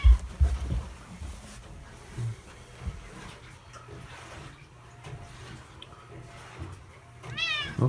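A cat gives a short, close meow near the end, after a stretch of quiet indoor rustling and faint background noise.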